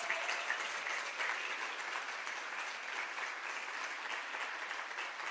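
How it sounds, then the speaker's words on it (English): A crowd at a breakfast event claps steadily and continuously, a dense, even wash of applause that holds at the same level throughout. "Let's give her another round of applause."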